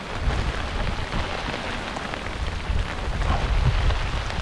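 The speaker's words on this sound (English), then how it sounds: "Rain just came on us really fast." Sudden rain shower falling on a lake around a bass fishing boat, a dense steady hiss of drops hitting water, continuous and fairly loud, with no voices.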